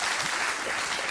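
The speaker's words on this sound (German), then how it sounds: "Ein Applaus!" A brief, fairly quiet wash of audience applause during an interview with a singer, dense and even for about a second.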